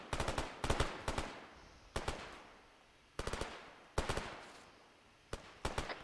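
Suppressing gunfire in the video game Arma 3: several sharp, close bursts of automatic fire in quick clusters, with short gaps and fading echoes between volleys.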